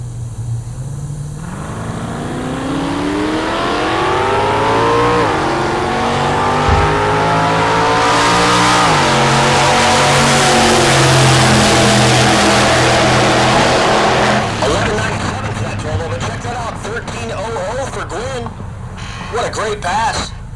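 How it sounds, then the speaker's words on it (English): A drag race car with front-exit hood flapper exhaust launches in the left lane and roars down the strip, a Pontiac G8 in the 12-0 class at Heartland Park Topeka, engine climbing through gears loud and close beneath an announcer's commentary before fading away. "hood flapper exhaust, front exit action. Clayton Myrtle in the left lane, the G8, in the 12-0 class."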